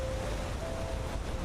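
Rushing waterfall water in the video game Enderal makes a steady broadband roar, constant and moderately loud, with no talk.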